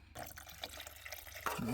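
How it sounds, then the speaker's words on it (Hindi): Water is poured into a pot of thickened cooked dal, giving a soft, close splashing and trickling pour lasting under two seconds with no talking. "अभी देखना पानी डालूंगी तो सही हो जाएगी।"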